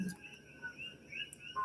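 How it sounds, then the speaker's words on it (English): Coqui frogs calling outside at night, faint high chirping notes repeating over soft background hiss, distant and quiet with no voices. "I don't know if you can hear the coqui frogs outside"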